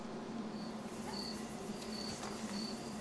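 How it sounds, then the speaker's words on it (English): Crickets chirp in short, evenly spaced trills over a steady outdoor hiss, moderately faint and continuous. "And we hear our crickets and little dog barking and stuff"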